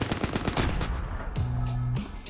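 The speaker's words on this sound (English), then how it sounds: "The muzzle blast from the M60 blew the powder completely off the floor" An M60 machine gun fires a rapid burst of shots indoors, the loud cracks running together into a rattling stream before a brief lull and a few more shots.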